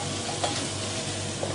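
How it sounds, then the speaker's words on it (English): Spanish omelette mixture sizzles steadily in a non-stick pan while being stirred, an even close frying hiss with faint scraping and no talk. "So you're basically just stirring it up."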